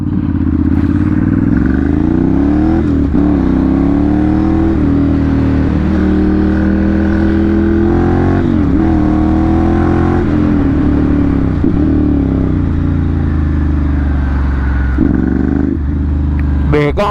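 A Ducati Monster 796 motorcycle engine idling and revving loudly up close for a long stretch, with rising and falling pitch and some mechanical clatter; someone talks briefly over it.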